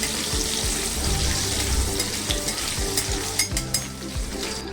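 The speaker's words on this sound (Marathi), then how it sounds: "अर्धा मिनिट ह्या मिरच्या आपल्याला परतून घ्यायच्या आहेत" Steady sizzling of chillies frying in hot oil, with occasional stirring scrapes and clinks close by, no voices.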